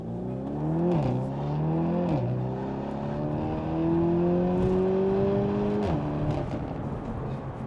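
A tuned 390hp VW T-Roc 2.0 TSI R at Stage 1.5 with an Akrapovic exhaust pulls hard through the gears. The loud engine note climbs steadily and drops sharply at each upshift, with no talk.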